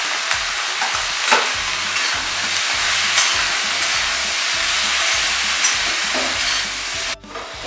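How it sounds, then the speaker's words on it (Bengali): Eggplant slices with neem flowers, seasoned with salt and turmeric, fry in a wok with a steady broadband sizzle, broken by repeated scraping stirs from a spatula, close and loud, with no talking. "আমি মাঝে মাঝে বেগুনগুলো নাড়তে থাকবো"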